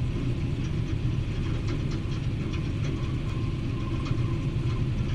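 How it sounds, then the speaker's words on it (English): A Tiger Moth biplane engine in the IL-2 Cliffs of Dover flight game runs at startup, a loud, steady rumbling drone that holds even throughout with no speech over it. "Then you can hear the engine starting to change."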